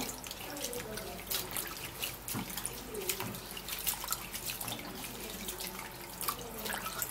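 Garden egg leaves are washed under a running tap, with water splashing and trickling in a sink, punctuated by soft drips and handling noises, fairly faint and close.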